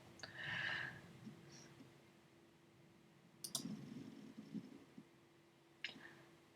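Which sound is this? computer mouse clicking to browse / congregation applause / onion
computer mouse clicking to browse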